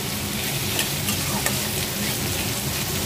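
Curry leaves and other ingredients for prawn masala frying in a pan make a loud, dense, steady sizzle, with stirring scrapes and a few faint pops close up and no voices.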